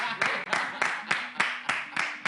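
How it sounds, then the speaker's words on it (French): Steady rhythmic clapping from an audience, sharp claps at an even pace, filling the whole moment without voices. "Applaudissez Yannick pour moi."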